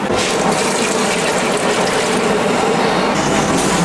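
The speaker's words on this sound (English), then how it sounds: "I'm going to add 4 cups of hot liquid to that." Hot liquid, four cups, poured into a pot of ditali pasta, a loud continuous gushing splash held close and steady for several seconds with no talk over it.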